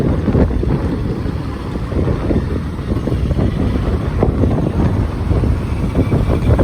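A boat motor drones steadily on a coastal trip from Akyaka to Marmaris, its low rumble partly masked by heavy wind buffeting the microphone throughout.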